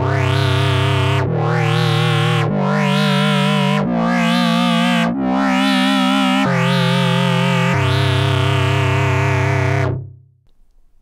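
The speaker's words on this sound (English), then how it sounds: "now we can change both voices to a square wave oscillator" A hollow, buzzy analog modular synth square-wave tone plays a sequence of seven separate notes in a steady rhythm, the last held longer before cutting off.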